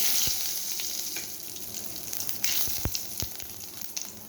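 Nigella seeds fry in hot oil with a steady, bright crackling sizzle, broken by a few sharp pops and light clicks close up, with no speech.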